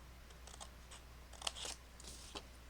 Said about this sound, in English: we are going to take our scissors, and we are going to cut here.